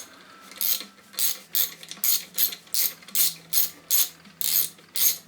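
A ratchet wrench works the bolts on a classic Mini's Lucas 16ACR alternator during a strip-down, about ten steady, evenly spaced rasping clicks, close up and with no talking.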